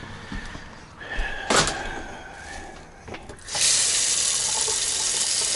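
Water rushes from a hose off an RV's extended water tank under pump pressure, a steady hiss that swells loud and holds after a brief clunk, with no talking.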